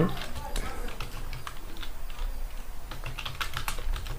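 Fingers type on a computer keyboard while entering C++ code, a fast, close patter of key clicks running throughout as someone talks over it.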